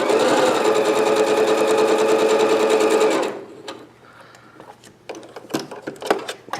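A sewing machine stitching an inset Y seam, running in a fast, even burst for about three seconds, then stopping, followed by a few quieter clicks and handling noises.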